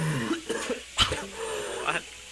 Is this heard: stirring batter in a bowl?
no